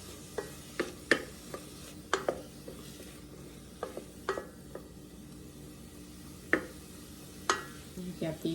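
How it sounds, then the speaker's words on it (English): Onions and garlic sautéing in an Instant Pot while being stirred, with scattered sharp clinks and scrapes of a utensil against the pot over a faint low sizzle, irregular and close. "Because you're always going to have to stir while you saute."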